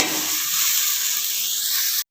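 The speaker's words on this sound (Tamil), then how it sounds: "நல்லா தேர்ந்து பாருங்கள், அந்த வெண்டிக்காய் வணக்கிறது" Okra (vendakkai) sizzling loudly in a hot pan with salt added, a continuous bright hiss that cuts off abruptly at the end.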